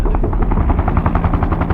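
A helicopter's rotor thumps in a fast, steady rhythm, loud and close, with a low droning engine underneath and no voices.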